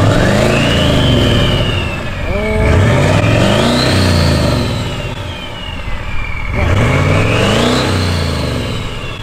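A 6.7L compound turbo diesel truck with dual exhaust revs hard twice, the loud deep engine climbing and falling in two long sweeps with a rising turbo whine, close by.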